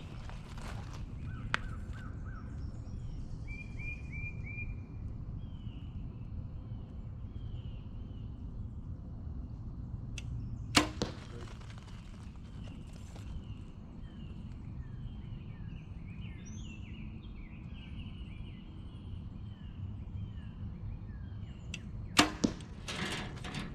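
Outdoors with birdsong in the background, a PSE Levitate compound bow fires arrows twice about eleven seconds apart, each shot a sharp snap followed by a quick thud.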